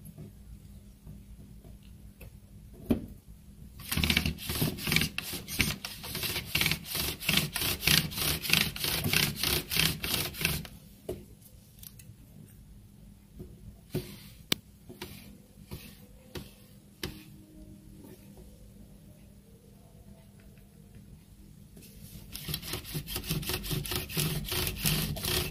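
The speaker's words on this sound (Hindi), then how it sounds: "बेल्टचा आवाज येते हे जेव्हा फिरतो ना परत" A dot matrix printer under servicing, carriage belt rotating, gives rough scraping, rasping runs broken by quieter stretches with intermittent ticks and clicks, close and fairly loud.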